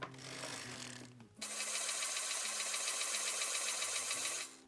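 Circular sock knitting machine cranked by hand through rows of a sock, a steady loud mechanical clatter and rattle running continuously with a brief pause near the start, no talk.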